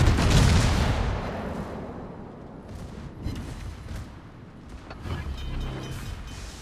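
Gneisenau battlecruiser secondary guns firing in World of Warships, a dense rumbling barrage of booms that starts strong and continues with scattered further blasts, mid-distance and moderately loud.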